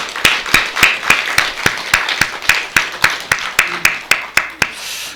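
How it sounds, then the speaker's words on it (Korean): Church congregation clapping together in a slow, even rhythm of about fifteen loud, sharp claps, close and distinct, with a brief burst of faster clapping at the end. "우리 큰 박수로 한번 합시다."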